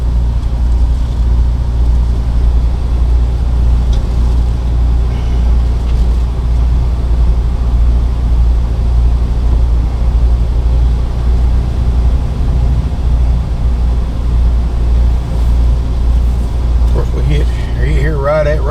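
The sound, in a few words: Fleetwood Jamboree Class C motorhome with V10 engine driving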